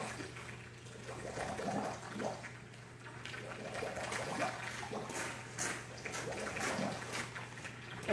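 A small garden hose runs water steadily while a condenser's water is being changed, a continuous splashing wash that holds at moderate level throughout with faint intermittent sounds layered over it.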